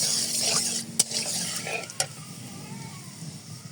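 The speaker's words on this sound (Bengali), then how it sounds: "তেলটা গরম হওয়ার অপেক্ষা। এখন আমি দারচিনি দিয়ে এলাচ দারচিনি দিয়ে দেব।" Cinnamon and cardamom sizzling in hot mustard oil for a sweet-sour jujube pickle, a steady close hiss with a couple of sharp clinks of a utensil against the pan.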